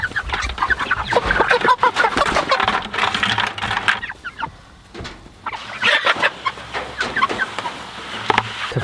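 Meat chickens housed in chicken tractors, a dense, close flock clucking and chattering loudly with scratchy pecking sounds, dipping briefly quieter midway before the clamour picks up again.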